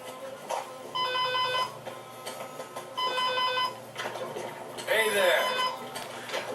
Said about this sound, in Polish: Telefon dzwoni w międzyczasie ja sobie to skipnę.